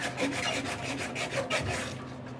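A file takes burrs off a bearing from a 1959 MotoMower Shark5, making steady back-and-forth rasping strokes, close and moderately loud, with no voices.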